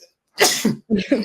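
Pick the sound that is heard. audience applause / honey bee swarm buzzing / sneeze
sneeze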